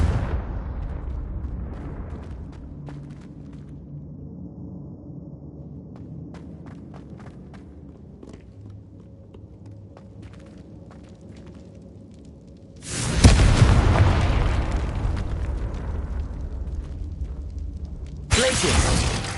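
Confringo spell blasts in Hogwarts Legacy: after a long quiet stretch of soft footsteps and ambience, a loud, broad explosive burst erupts and rumbles on, followed by a second sharp blast near the end.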